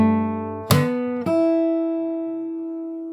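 Fingerstyle guitar playing a phrase of a jazz standard, with two percussive slapped attacks over ringing notes that sustain and slowly fade, close and alone.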